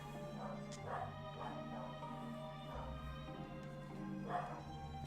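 Several house dogs bark and yip in a scattered series of short bursts, fairly faint and distant indoors, over a low steady hum.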